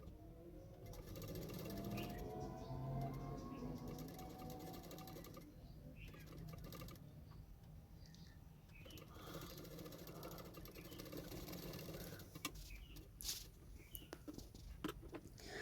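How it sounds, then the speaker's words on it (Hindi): A sewing machine stitches prince-cut designer blouse pieces with a half-inch seam margin, a fast rhythmic mechanical whirr in stretches, with pauses and some background sounds. "तो दोनों पार्टों को मैंने इसी तरह से 1/2 इंच मार्जिन रखते हुए सिलाई करूँगी।"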